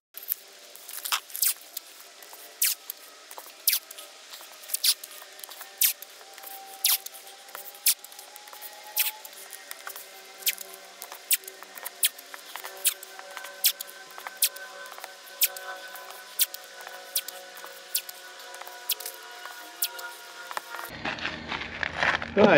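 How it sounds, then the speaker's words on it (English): Decorator's masking tape is pulled and pressed down while marking a hole for a 240-volt mains socket in a van build, making repeated close crackling tears and sticky peels with faint squeaks. "now I'm just going to tape up."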